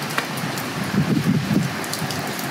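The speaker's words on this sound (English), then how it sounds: "Second day of rain." Rain falling in Mozambique, a steady soft hiss of drops with a low rumbling swell in the middle, fairly close and without voices.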